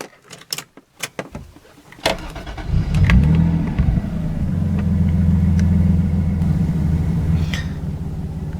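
A 1993 Toyota Supra RZ with a 2JZ-GTE engine cranks after a few clicks, fires with a rising roar, and settles into a steady, even idle rumble.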